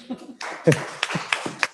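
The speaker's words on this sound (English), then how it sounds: "Can we clap for ma'am, everybody?" A small audience at a talk about food and faith claps for a guest speaker, a handful of scattered, uneven claps mixed with voices, fairly close and not very loud.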